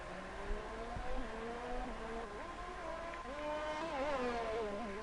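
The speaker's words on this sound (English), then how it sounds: "So Pipitek now out here on the soft tyres." Formula 1 race car in a video game on a French circuit, engine whining and shifting pitch through upshifts and downshifts, steady and fairly loud, with faint commentary underneath.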